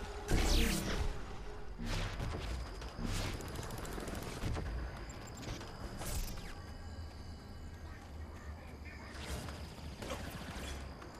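Repeated video-game gunfire in Saints Row IV, a loud burst of shots opening the stretch followed by scattered bangs over busy game noise and a background hum.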